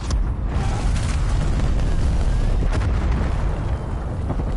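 A cruise missile strike explodes in the video game Call of Duty Cold War, a loud, sustained rumbling blast that fills the whole stretch with dense, roaring noise and no voices.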